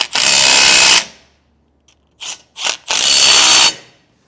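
A 9/16-inch socket ratchet wrench tightens bolts on an electric-over-hydraulic trailer brake actuator, heard close and loud as two long rapid clicking runs with a few short bursts between them.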